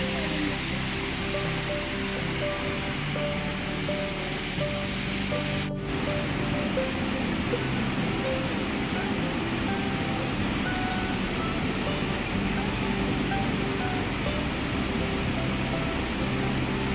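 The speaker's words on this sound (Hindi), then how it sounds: "तो फिलहाल अभी फिर से बारिश तेज होने लग गई है।" Heavy rain pours down on the Hemkund Sahib mountain route, a steady, dense broadband hiss that holds constant and close for the whole stretch with no voices over it.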